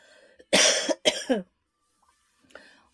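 Two harsh coughs in quick succession inside a camper van, close and loud, followed by a faint throat sound.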